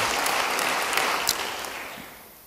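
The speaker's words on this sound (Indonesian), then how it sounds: "Beri tepuk tangan bagi dia" A church congregation applauds after a sermon, with steady dense clapping filling the space that gradually fades toward the end.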